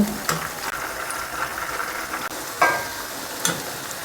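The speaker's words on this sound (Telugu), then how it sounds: "పీస్ అన్నీ ఎర్రగా వేగేంత వరకు వేయించుకోండి ఇంకా ఇంకా వేగాలి మీడియం ఫ్లేమ్లో పెట్టుకొని వేయించుకోండి" Chicken pieces for chilli chicken fry on a medium flame with a constant, fairly loud sizzle, broken by a few stirring clinks and scrapes, with no voice.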